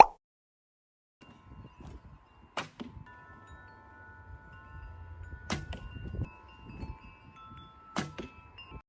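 Arrows loosed from an ILF TBOW recurve bow give three sharp, distinct snaps spaced a few seconds apart, each standing clear over a quiet background with faint handling noise between shots.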